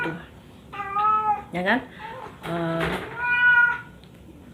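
A pet cat meows repeatedly in drawn-out, rising and falling cries, close and fairly loud, with a brief spoken word mixed in.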